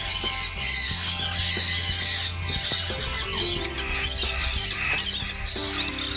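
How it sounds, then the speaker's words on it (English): Bronze-winged and Maximilian pionus parrots at a bird breeding facility give loud, repeated squawks and chattering calls, close and busy with several birds overlapping, with no talking. "These are your bronze wing pionas"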